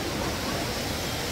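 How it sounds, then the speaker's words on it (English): Laurel Falls waterfall on the Appalachian Trail pours with a steady, dense rush of white noise, close and continuous, with no voices. "So I'm at the famous Laurel Falls"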